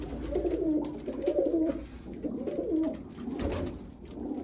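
Black pigeons coo in a loft, repeated throaty rolling calls rising and falling in a steady rhythm, fairly close, with several birds overlapping and no voices.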